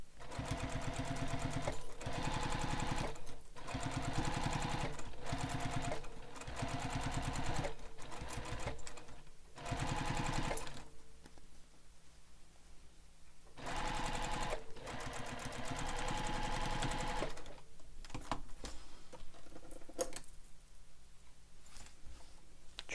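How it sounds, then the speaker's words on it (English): A sewing machine stitches a fabric bag in loud steady whirring runs, pausing briefly between bursts, then running again, with no talking over it. "you'll want to make sure it's changed before you start stitching"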